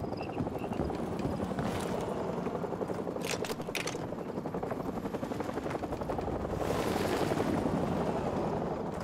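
Helicopter in the Call of Duty: Modern Warfare Remastered video game, a steady loud rotor thrum filling the whole stretch with a slight swell near the end, mixed with distant battle noise and no speech.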